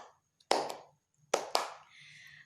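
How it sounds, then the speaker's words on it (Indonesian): Hands clapping in a quiet room: two sharp claps close together, a short pause, then two more, each crisp and near with a brief decay. "Gerakan keenam yaitu bertepuk tangan."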